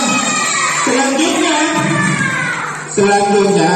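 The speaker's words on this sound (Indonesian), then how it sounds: "Tepuk tangan untuk Nazal." Schoolchildren in a school setting cheer and shout together, loud and close, with a brief dip before another burst of excited voices.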